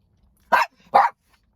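A dog gives two sharp, loud barks, close by, separated by a brief pause in an otherwise quiet room.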